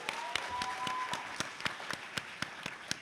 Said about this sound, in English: Round of applause for people who are old school.